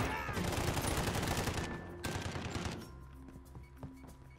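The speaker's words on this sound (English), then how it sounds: "Oh, here, I'll show you how to use an LMG." Rapid, sustained LMG machine-gun fire in the Call of Duty video game, loud and dense for almost three seconds, then cutting off into quieter game sounds with a few scattered faint shots.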